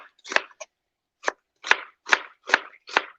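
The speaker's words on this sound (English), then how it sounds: "So again, this one we're just going to julienne. So I'm just going to follow all of these little lines that are on the onion itself." A knife slices an onion into julienne strips on a cutting board with about seven crisp, close cuts in an uneven but steady rhythm, quiet between strokes and with no talking.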